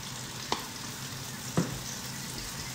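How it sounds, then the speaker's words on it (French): Spinach pan-frying in butter gives a steady, close sizzle throughout, with a garlic-rubbed fork making a few sharp scrapes and clicks against the pan. "Et donc l'épinard poêlé à côté, on va le faire tomber avec une fourchette aillée."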